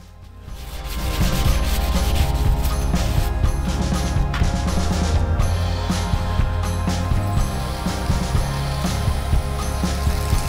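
A non-abrasive scotch pad rubs steadily over a sanding-sealer finish on a turned yew vase, continuous and fairly close scuffing with a slight rasping texture and no voices.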